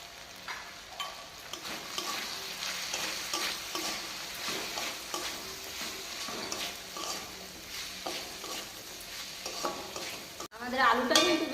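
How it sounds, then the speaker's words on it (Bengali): Potatoes fry in a pan with turmeric and chili powder, a steady close sizzle with repeated scraping stirs throughout and a louder clatter near the end. "আমাদের আলুটা কিন্তু বেশ ভালো কষা হয়ে এসেছে।"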